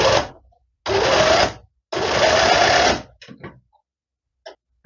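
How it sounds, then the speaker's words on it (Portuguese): A sewing machine stitches folded fabric in two firm bursts of rapid mechanical whirring, each about a second long, followed by a few short clicks and taps of handling the cloth, close and with no talk. "E vou costurar aqui."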